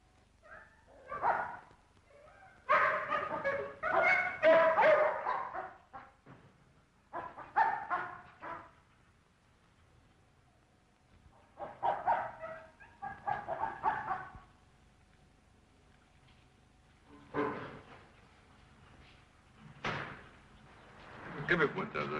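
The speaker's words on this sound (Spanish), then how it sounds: "Costó que ladrasen los perros." Dogs bark in a series of irregular bursts in a 1990 documentary film scene, several barks clustered together then separated by quiet gaps, moderately near and fairly loud, with no talking.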